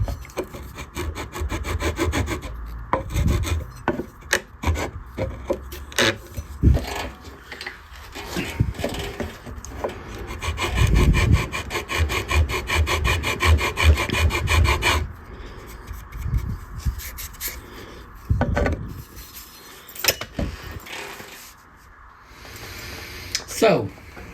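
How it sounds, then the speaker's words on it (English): A safe-edge file rasps along the wooden edge of a guitar fretboard on a purple Strat project, with repeated close scraping strokes in bursts and pauses, and a person talking at times between strokes. "I have a file with a safe edge. I'm just going to clean up this edge of the fretboard a little."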